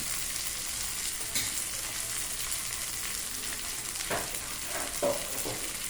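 Okra pieces fry in a pan for a tomato curry with a steady, dense sizzle throughout, broken by a few faint scrapes of stirring, no voices.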